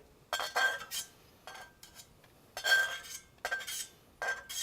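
Cooked bacon being lifted out of a hot pan while making a Caesar salad, with a run of bright metal clinks and scrapes of utensil against pan in short separated bursts, close and fairly quiet, no talking.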